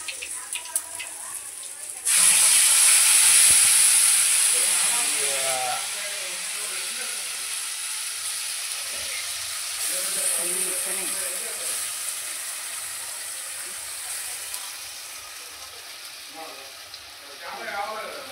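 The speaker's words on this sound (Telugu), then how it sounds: "ఇది ఉల్లిగడ్డ టమాటా కొంచెం నూనెలో బాగా ఉడకాలి" Blended onion and tomato paste cooks in oil for Telangana chapala curry, a steady broadband sizzle that surges loudly at first, then settles into a continuous hiss beneath a voice talking throughout.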